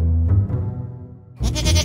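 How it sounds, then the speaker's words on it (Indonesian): A cartoon goat bleats in two drawn-out cries, a long wavering one first and then a sharper bleat after a short pause. Both are close and loud, with no speech. "Kambing siapa kering kerontang ini makan sayuranku?"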